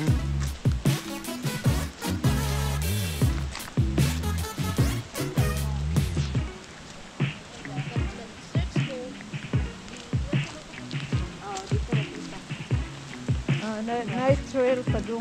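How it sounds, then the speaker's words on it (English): Heavy rain falls at night at a campground on the Oregon coast, a steady wash of drops on surfaces that lasts throughout, with people talking over it. "Malakas ang ulan"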